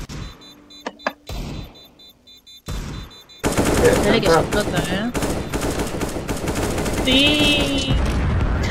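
Rapid bursts of gunfire from a Counter-Strike match, starting with a few scattered shots and then swelling into sustained, loud rattling fire with explosive thuds, mixed with game sounds.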